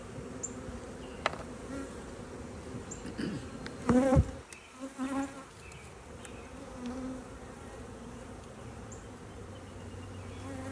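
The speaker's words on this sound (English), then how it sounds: "you got the little fuzzy bees running around" Honey bees buzz around an opened hive during a spring inspection, a close, continuous hum with a brief louder pass near the middle and faint handling noises.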